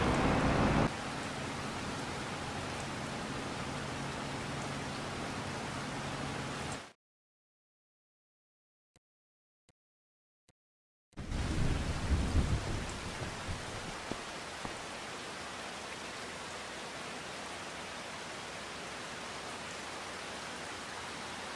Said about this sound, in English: Because rain is a bit annoying.